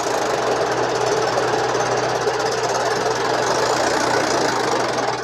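A tractor engine labours hard pulling a trailer loaded with about 200 quintals, a loud constant droning roar with a knocking low throb that holds steady throughout without letting up.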